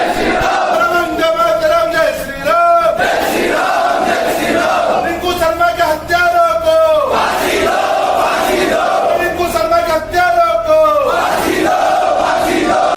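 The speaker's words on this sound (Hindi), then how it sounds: "मंच के बैनर तले मौजूद भीड़ ने यहां भी नारेबाजी कर प्रदर्शन किया।" Large protest crowd at a rally outside a district collector's office, chanting slogans together in loud, rhythmic call-and-response bursts that repeat continuously and fill the space with massed voices.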